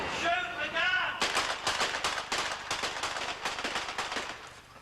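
A gun fired during a film stunt on the set of Death Wish III goes off in a rapid string of loud, sharp shots after a brief spoken shout.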